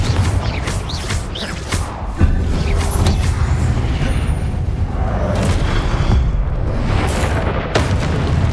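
Confringo blasting spell in Hogwarts Legacy during a Pensieve Guardian boss fight, a series of loud booming explosions and crashes layered over dense continuous combat noise.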